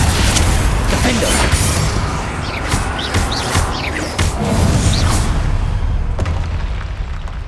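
Fiery Confringo spell blasts in the Hogwarts Legacy video game, a dense, loud stretch of booming bursts and whooshes layered over a constant rumbling game soundscape.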